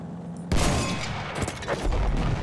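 A sharp, loud gunshot in the video game Battlefield 1 bursts out after a brief quiet moment, followed by a rumbling, noisy tail with scattered cracks.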